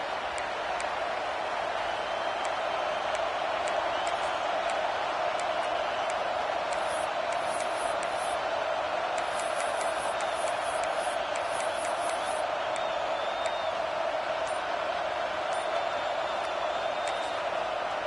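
Stadium crowd roar in a college football video game, LSU versus USC, a steady loud wash of crowd noise with scattered whistles and cheers, under a commentator's voice.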